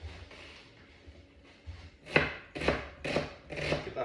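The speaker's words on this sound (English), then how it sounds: "We're going to start off by slicing an onion." A knife slicing an onion on a board for a Kenyan onion salad, starting with faint rustling and then four sharp, evenly spaced cuts that grow louder toward the end, no talking.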